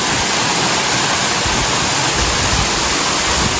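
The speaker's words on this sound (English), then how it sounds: "And this is the waterfall," Ulu Petanu waterfall in Ubud, Bali, gives a steady, loud, close roar of falling water that holds unbroken and even for the whole stretch, with no voices over it.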